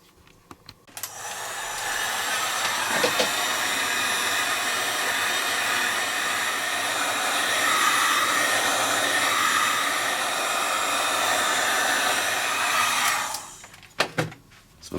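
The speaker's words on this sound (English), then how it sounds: "Before I put the heat gun away," A heat gun blows hot air onto a plastic PA speaker: a loud, steady roaring whoosh switches on after a second, holds for about twelve seconds and then cuts off, with some faint handling clicks at either end.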